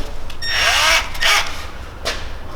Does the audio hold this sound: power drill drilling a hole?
yes